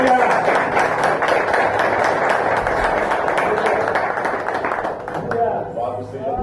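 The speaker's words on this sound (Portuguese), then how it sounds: "Aplauda o Senhor, por gentileza." A church congregation applauds, dense continuous clapping from many hands that gradually thins and fades toward the end, with a voice faintly present underneath.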